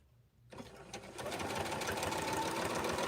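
A sewing machine runs a serpentine stitch across a layered rag quilt block, starting from near silence and settling into a steady, close, fast mechanical whirr and rattle.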